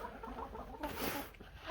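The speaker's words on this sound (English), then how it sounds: "These are chickens." Chickens cluck softly and continuously in the background, a low burbling chatter that is fairly faint with some ambient hiss.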